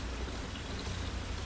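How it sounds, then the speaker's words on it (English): Rain blowing in on someone riding a scooter outdoors, a steady dense patter and hiss of drops with wind, continuous and fairly close throughout. "I'm getting wet right now. It's raining right now."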